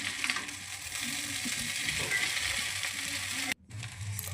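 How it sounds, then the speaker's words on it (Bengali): Chow mein is stirred and fried in a pan with vegetables, making a continuous close hiss and rattling scrape that cuts out briefly near the end before resuming. "চাউমিন একটু নাড়িয়ে চাড়িয়ে"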